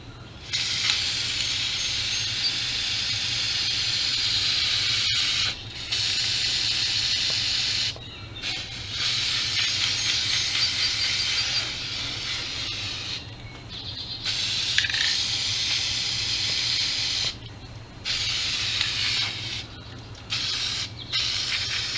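Gloss black paint sprays onto a pipe trike from a can in a series of long hissing bursts, mostly several seconds each, broken by short pauses, close and steady over a low background hum.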